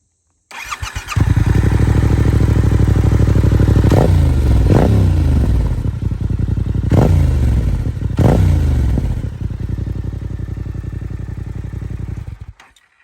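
A Yamaha MT motorcycle engine cranks and starts, settles into a loud, close idle, then is sharply revved several times in quick blips before idling again.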